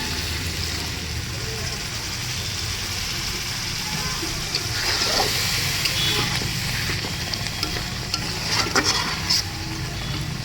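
Chicken bhuna curry sizzles and bubbles steadily in a pan after a little water is added, with a continuous frying hiss and occasional stirring scrapes close by.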